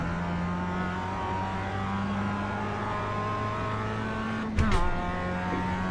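A Mazda MX-5 race car engine in the iRacing video game drones steadily at high revs, then a sharp downshift and a short braking squeal cut in near the end before the engine note settles again.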